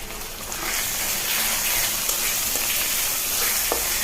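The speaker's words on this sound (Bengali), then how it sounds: "ডালগুলো দিয়ে আমি এখন ভেজে নেব।" Red lentils (masoor dal) frying in oil with onion and garlic paste in a home kitchen, giving a steady, even sizzle with faint stirring scrapes throughout, no talking.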